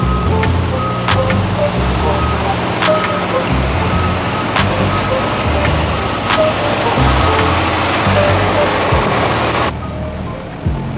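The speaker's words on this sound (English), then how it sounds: "Let's go move this truck." A truck, likely a big rig, rumbles loudly and steadily as it is driven and moved, with low engine drone throughout and sharp clanks and knocks on top; the level drops slightly near the end.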